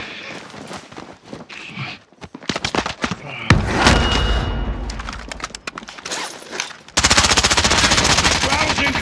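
Automatic gunfire in the video game Warzone, dense bursts of machine-gun fire and shots with thuds, loud and close, building to a sustained rapid burst near the end.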